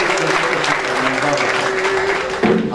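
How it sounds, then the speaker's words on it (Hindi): Dense applause from the audience at an Urdu poetry recital, loud and continuous clapping, with a voice faintly audible beneath it. "दोस्तों दीपक साहब के लिए तालियां बजानी है"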